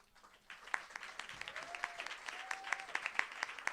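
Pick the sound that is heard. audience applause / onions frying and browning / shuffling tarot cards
audience applause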